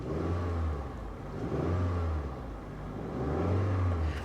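A Hyundai Veloster Turbo idles and revs in three low surges, each swelling and dropping back, heard close with no talk over it.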